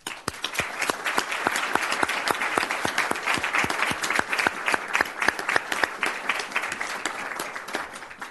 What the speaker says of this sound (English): I think we want to give you another round of applause.